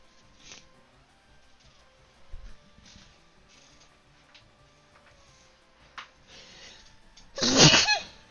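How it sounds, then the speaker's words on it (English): A single sharp sneeze bursts out near the end, after a quiet stretch with faint ticking and small noises. "I don't mean to be sneezing in your ear."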